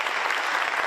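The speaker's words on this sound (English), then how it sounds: "Let's give them another round of applause" A brief, dense round of applause from an audience at a Detroit press conference, steady and continuous across the whole moment.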